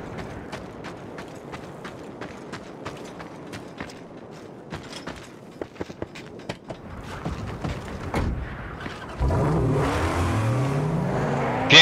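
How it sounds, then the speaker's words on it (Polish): In the Mad Max video game, a car engine idles amid scattered clicks and mechanical creaks, then rises into a loud, sustained rev with a climbing tone toward the end. "Piękny jest ten dźwięk tego silnika."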